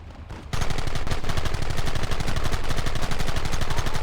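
Video game gunfire in Red Dead Redemption starts abruptly after a brief quiet moment and then becomes a dense, continuous barrage of rapid shots, loud and close, with no talking.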